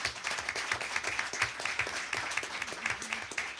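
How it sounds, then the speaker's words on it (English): Audience applause fills a board of education meeting, a steady, dense round of clapping from many hands that carries on without a break at moderate volume. "Give them another round of applause."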